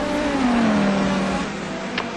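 A race car in a GRC Trophy racing video game passes by, its engine whine sliding down in pitch as it moves away, heard under a steady background of other engine noise.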